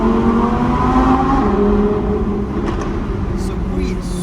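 A modified 634 hp Audi R8 engine roars loud and close, revving hard with a sustained throaty exhaust note and a few sharp cracks toward the end.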